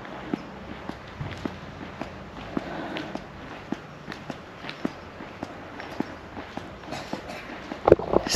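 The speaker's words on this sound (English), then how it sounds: "Sorry about the flip-flop noise." Soft, irregular footsteps slap along at a walking pace, light flip-flop smacks close by, with faint background noise and a louder scuffle near the end.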